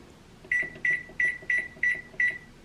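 A microwave oven heating a bowl of instant noodles in water hums quietly while six short, evenly spaced electronic beeps ring out clearly over it, with no talk.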